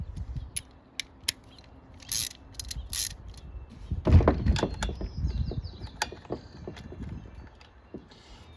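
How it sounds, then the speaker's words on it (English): A ratchet works on the spark arrestor of a Stihl FS 55R string trimmer, with scattered sharp clicks followed by a heavier, grinding metal clatter, close and moderately loud, with no speech. "Now we're gonna take off the spark arrestor and see what we got there."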